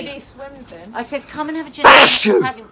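A single loud sneeze bursts out near the end, amid casual chat about gin and tonics in a backyard paddling pool, with people talking before it.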